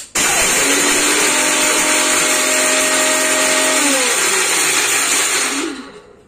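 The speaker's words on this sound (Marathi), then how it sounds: "बदाम आणि इलायची मिक्सर ग्राइंडर करून घेते" A mixer grinder grinding almonds and cardamom whirs loudly and steadily for several seconds, its motor pitch shifting slightly as it grinds, then winds down at the end.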